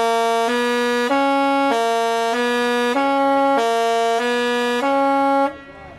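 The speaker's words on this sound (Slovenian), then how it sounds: "Ladje so vse trobile za polnoč" Cruise ships on the Nile in Egypt sound their horns at midnight on New Year's Eve, a loud, sustained tonal blast that shifts between two pitches several times before cutting off.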